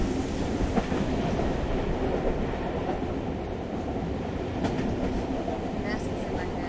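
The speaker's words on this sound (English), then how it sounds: "I quickly got out of the station and jumped on the first train back to Shenzhen." Train ride in the video game Tokyo Dark: a steady loud rumble of rail travel with faint rhythmic clatter and occasional high squeals, continuous throughout.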